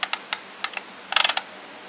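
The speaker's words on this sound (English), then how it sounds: "So I'm typing in belief." Quick bursts of typing on a computer keyboard, a few separate key taps followed by a rapid cluster of clicks, close and clear.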